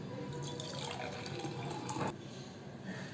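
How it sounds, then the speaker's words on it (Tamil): Strained carrot and pomegranate juice is poured into a tumbler, a soft, steady liquid trickle close by that swells briefly before easing off. "நம்ம டம்ளரில் ஊற்றிக்கலாம்."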